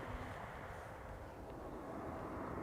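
Distant jet roar of an Iberia Express Airbus A321neo arriving at Amsterdam Schiphol, a steady low broadband rumble at a faint, even level with no distinct peaks and no talking.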